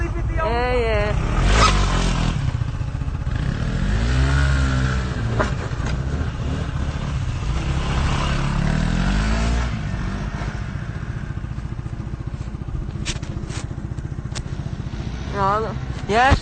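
A motorbike engine revs hard during a wheelie on a London street, a loud continuous roar that rises and falls in pitch, with excited voices shouting over it.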